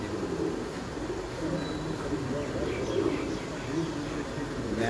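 Salara breed pigeons coo softly and repeatedly nearby, low burbling calls under a steady murmur of background noise and someone talking.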